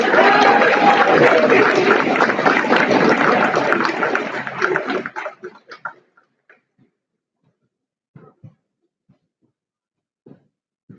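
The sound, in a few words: audience applause for a scholarship recipient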